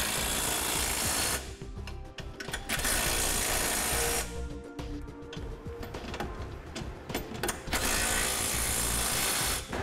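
A hand ratchet tightens trailer hitch fasteners on a 2015 Nissan Murano in quick, close clicking runs, bursts of rapid pawl ticks broken by short pauses between strokes.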